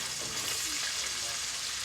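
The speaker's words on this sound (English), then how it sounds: "So right now we're just going to put the sausage in there. I'm going to fry that up as well." Sausage fries in a hot pan, giving off a close, steady hiss and crackle that runs unbroken through the whole short stretch, with no one speaking.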